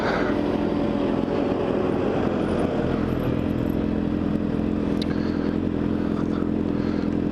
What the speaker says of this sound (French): je pense que c'est plus un engin de chantier qu'un tracteur